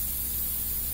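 An airbrush sprays paint in a steady, close hiss with no break, set against a low hum. The work is skin tone on a mural.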